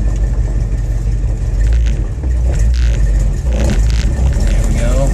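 A 1954 Packard with air bag suspension pulls out onto a main road and accelerates, its engine rumbling steadily close by under road and cabin noise, with a voice over it.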